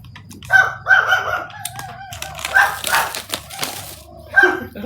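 A dog barks in short bursts, several sharp yelps close by with pauses between, over low background noise and some rustling.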